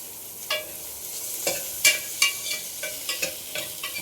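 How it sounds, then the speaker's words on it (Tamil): Chopped carrots and beans fry in a pan with a soft sizzle underneath, while a spatula scrapes and knocks against the pan in quick, irregular strokes, close by and without speech. "அதை ஆட் பண்ணிவிட்டு நல்லா ஃப்ரை பண்ணுங்க."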